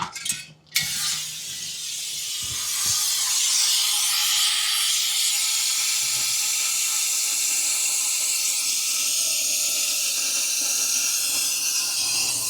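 Compressed air hisses steadily and loudly through a coolant vacuum filler hooked to a 1961 Buick LeSabre's cooling system, starting after a few clicks and handling noises and then holding a constant rush.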